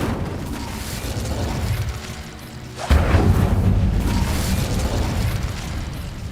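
A fire spell blast in Hogwarts Legacy: after a low mechanical rumble, a sudden loud whooshing burst erupts near the midpoint and sustains as a roaring, crackling flare.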